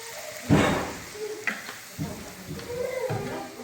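Water is poured into spiced potatoes frying in a pan, giving a sudden sizzling hiss that bursts up at once, then dies down into uneven crackles and bubbling.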